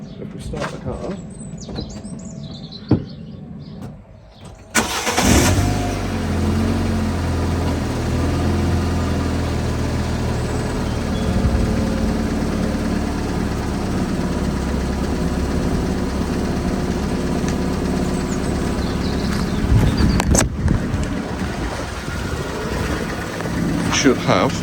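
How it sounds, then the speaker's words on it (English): A Fiat 500 engine catches after a few quiet seconds of birdsong outside and then settles into a steady, low idle that runs on for twenty seconds, with a brief louder rev near the end and some talking. "if we start the car,"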